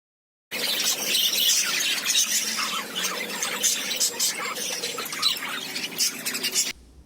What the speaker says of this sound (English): bird, chirp, tiger, growl